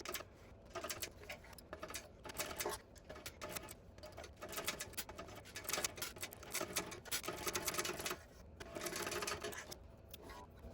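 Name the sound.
sewing machine stitching a tote bag seam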